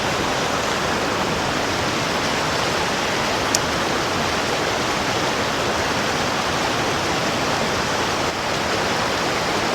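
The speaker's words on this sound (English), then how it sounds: "right through these trees where that water's coming down" Mountain creek water tumbling down through trees, a steady broadband rushing hiss, close and even throughout with no voices.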